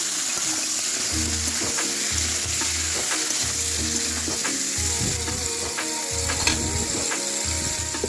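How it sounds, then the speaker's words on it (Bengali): Onion stalks frying in a pan produce a loud, dense sizzle and crackle, with a repeated low rhythmic thumping and occasional scraping stirs underneath, close and continuous. "এবার তার জন্য দিয়ে দিলাম পেঁয়াজ কলিগুলো"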